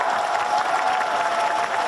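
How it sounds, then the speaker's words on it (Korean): Steady, dense applause from a large audience at the Busan International Film Festival open talk for the Netflix film Jeon, Ran, honoring the director. It runs evenly for about two seconds with no pauses. "우리 감독님께 박수 부탁드리겠습니다"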